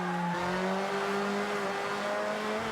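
A Toyota Altezza locks its brakes and skids in Forza Horizon, a sustained tire squeal sliding in pitch under the engine for a few seconds, with no talking.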